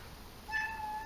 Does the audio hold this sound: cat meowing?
yes